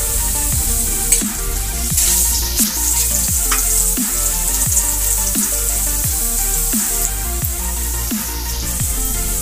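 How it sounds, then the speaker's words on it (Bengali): Cut potatoes with turmeric and a little salt frying in hot oil, a loud steady crackling sizzle with soft stirring knocks at a regular rhythm underneath, close up and without speech. "আলুগুলো আমি বেশি ভাজবো না"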